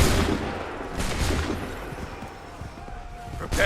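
Muskets crack in a ragged volley from soldiers in Assassin's Creed 3, with bursts near the start, middle and end and a rumbling battle din beneath, voices faintly present.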